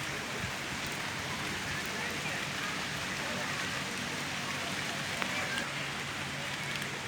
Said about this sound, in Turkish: Yağmur başladı şu anda. Ağustos yağmuru Ankara'da.